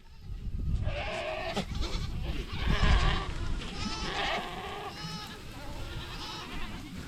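Several Spanish goats bleat repeatedly in wavering calls in a pasture, some close and some farther off, over a steady background of rustling and movement.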